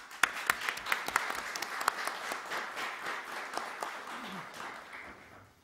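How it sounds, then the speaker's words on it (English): Audience applause at the close of a Middle East symposium conference session, a dense patter of clapping that starts strong with a few sharp individual claps and gradually thins and fades out. "maybe a last applause for the speakers"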